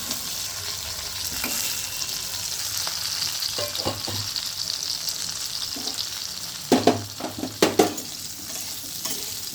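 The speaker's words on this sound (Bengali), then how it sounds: "এবার কালো জিরে আর কাঁচা লঙ্কার সঙ্গে আলুগুলোকে ভালো করে ভেজে নিতে হবে।" Potatoes frying in oil with black cumin and green chillies give a constant close hiss, with a few soft scrapes and then a cluster of sharp spatula knocks against the pan near the end.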